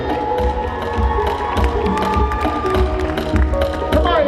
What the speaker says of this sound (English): Please give a round of applause for Made by Adore.